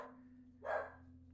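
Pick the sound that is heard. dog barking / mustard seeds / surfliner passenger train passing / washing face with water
dog barking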